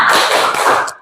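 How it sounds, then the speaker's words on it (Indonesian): A school class does a spirit clap during a classroom ice-breaker: a brief, loud, dense burst of many hands clapping together at close range. "Silahkan kalian tepuk semangat."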